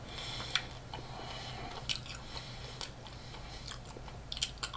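Close, crisp crunching bites of Popeyes Ghost Pepper fried chicken wings, with sharp crackles recurring roughly every second over a soft steady background.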